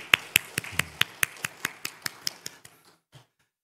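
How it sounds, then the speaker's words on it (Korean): A church congregation claps after a choir's praise song: about a dozen sharp, evenly spaced claps in unison, then slowing, thinning and fading out with no voices. "우리 성가대 찬양과 합하여 하나님께 영광의 박수 올려드리겠습니다"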